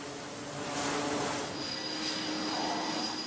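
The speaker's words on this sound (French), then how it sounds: "Il doit alors remettre les gaz et recommencer son approche." A carrier jet throttles up to go around after missing the arrestor wires, a steady broad engine roar with a thin high whine rising in the second half, fairly loud and continuous with no talk.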